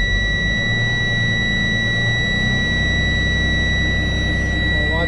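Engine held in neutral with the brake on being brought up to a fast idle, a loud steady drone with a low rumble and constant high whining buzzer tones over it, the low end shifting as the RPMs rise, no talk.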